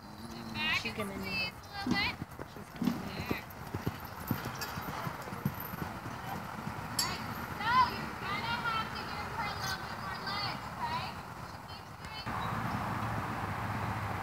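Horse hooves clip-clop along at a walking pace, mixed with people talking and background noise, then a steadier rumble near the end.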